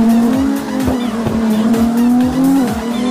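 A 2022 Monster Supra drifts in CarX Drift Racing 2, its loud engine holding a sustained drone while tires squeal in repeated bursts throughout.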